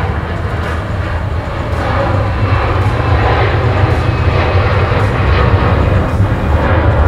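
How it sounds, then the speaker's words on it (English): An airplane takes off nearby, a loud, broad engine roar with heavy low rumble that builds slightly after the first second and holds steady, with no voices over it. "Plane's taken off as usual."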